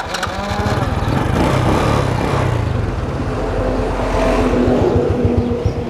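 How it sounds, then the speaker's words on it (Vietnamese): A Honda Wave Alpha motorcycle with an original stock engine idles steadily nearby, a continuous low throbbing putter with no revving, running alone without talk throughout. "xe đang nổ máy"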